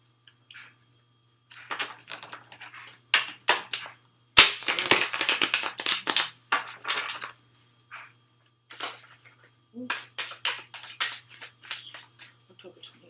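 Tarot cards being shuffled in hand produce bursts of crisp riffling and flicking, loud and close, in irregular clusters with short pauses between them.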